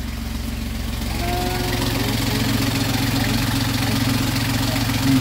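The engine of a 1972 Dickerson 36 sailboat idling at 800 RPM, a steady, close, low throbbing drone with a regular mechanical pulse and constant hum throughout.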